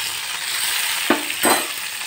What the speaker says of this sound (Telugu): అలానే ఆనియన్, ఒక 4 పచ్చిమిర్చి, అంతే అండి. మొత్తం ఇవి రెండు బాగా మగ్గించుకోవాలి.